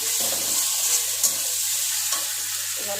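Steady loud sizzle of ground cumin frying in hot oil in a pan, stirred continuously, with a brief scrape or two, no talking.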